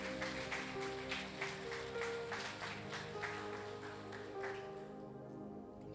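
Church congregation applauding during a worship service, dense sustained clapping from many hands in a large room with a held musical tone underneath, the clapping fading toward the end.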